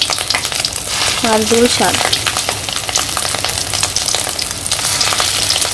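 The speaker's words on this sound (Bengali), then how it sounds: "তো আমি সবগুলা আর কি ভেজে নিই বড়া" Rohu fish roe fritters fry steadily in hot oil, a continuous close sizzle and bubbling throughout, with a brief voice speaking early on.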